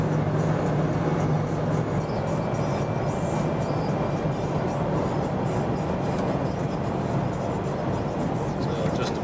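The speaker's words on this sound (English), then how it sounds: "Feel a little bit of wind noise, which is normal for a 90s vehicle" Inside a 1990s Land Rover Discovery 1 at highway speed, a steady even roar of wind and road noise fills the cabin without a break.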